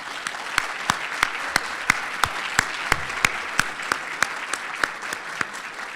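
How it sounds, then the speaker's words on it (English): An evening program audience claps for its honorees, a steady patter of many hands with sharp individual claps standing out in a regular rhythm, fairly close and filling the room. "I want to give another round of applause for our honorees this evening"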